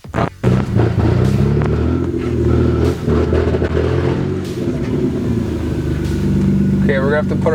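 A Toyota 2JZ engine runs loud and close, holding a rough, steady drone with several rising revs throughout.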